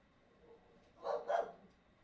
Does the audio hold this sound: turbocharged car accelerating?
no